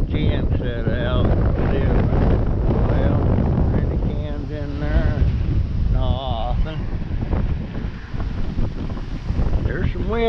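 Strong wind buffets the microphone outdoors on a neighborhood street, a loud, steady roaring rumble that holds throughout, with a voice heard faintly at times beneath it.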